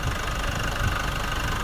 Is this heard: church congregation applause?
no